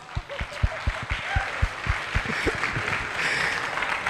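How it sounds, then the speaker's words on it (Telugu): An event audience claps at a film gathering, starting with scattered individual claps that build into denser, steady applause heard from close by. "కొట్టొచ్చు క్లాప్స్"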